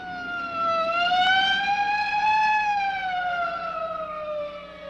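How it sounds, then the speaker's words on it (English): Police car siren from a 1957 science fiction film, a loud wailing tone that rises and slowly falls, heard alone and clearly over a faint background. "Hey, a police car."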